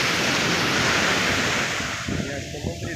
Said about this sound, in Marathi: या समुद्री लाटा आपल्या मनातील जे काही टेन्शन आहे ते आपल्यासोबत वाहून घेऊन जात आहेत